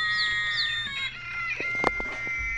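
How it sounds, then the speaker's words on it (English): Call of a Rhode Island Red chicken played from an Audubon plush bird toy by Wild Republic, giving several short clucking and crowing notes in a recorded, electronic tone, heard alone at moderate volume. "Rhode Island Red, chicken chick, Rhode Island Red"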